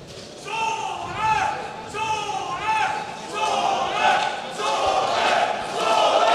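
A Salzburg Fight Night crowd in a sports hall cheers on fighter Andy Köchel. Waves of loud, swelling shouts rise and fall continuously, with a commentator's voice running underneath.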